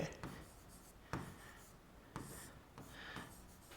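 Handwriting is heard up close as a series of scratchy pen strokes in short bursts with brief pauses between them, quiet and steady.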